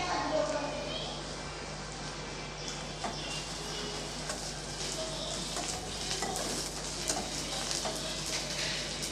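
Mint and coriander leaves sautéing in a pan for an egg curry with coconut milk make a soft, steady sizzle, with faint light stirring ticks scattered throughout.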